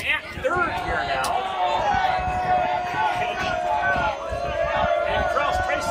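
Crowd at a high school baseball game: a steady wash of cheering and hubbub from many voices in the stands continues throughout, with a loud shout rising near the start.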